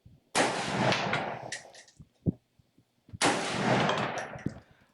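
Two loud AR rifle shots ring out at an outdoor shooting range, about three seconds apart, each a sharp crack trailing into a long echoing decay, with faint clicks and knocks between them.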